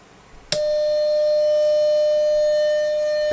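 A steady pure tone of about 603 hertz from a resonance tube experiment starts suddenly after a sharp click and holds evenly at strong volume until the end.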